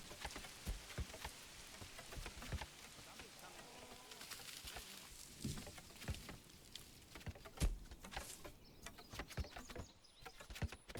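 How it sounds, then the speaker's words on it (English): Rain from a storm in the video game Manor Lords patters faintly and steadily, with scattered drops and occasional louder taps, and bird calls heard softly in the background. "now it is doing a bit of a storm. We're getting some rain here in the game"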